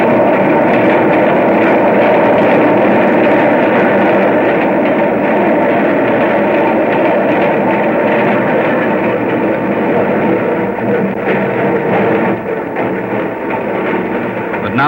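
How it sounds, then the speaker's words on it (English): A train's low rumble and steady mechanical drone, easing off toward the end as it slows to a stop at 72nd Street station. "Now the train was stopping."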